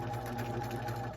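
A sewing machine stitches fabric in one short, steady whirring run, close and clear, fading at the end.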